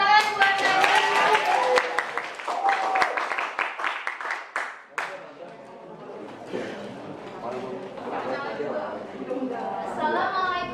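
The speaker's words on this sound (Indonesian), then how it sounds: "Ayo tepuk tangan buat saya." A classroom group claps for a student, with a burst of brisk hand claps mixed with chatter and voices, fading into murmuring talk.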